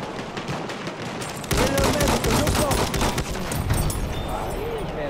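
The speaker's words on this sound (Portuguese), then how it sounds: "Deus, tá atirando." Rapid bursts of gunfire from the Battlefield 1 video game, mostly automatic fire with dense, overlapping shots growing louder partway through, while players shout excitedly over the shooting.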